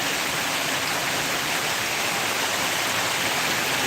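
Heavy downpour of rain, a dense steady roar of falling water that stays loud and constant throughout with no talking.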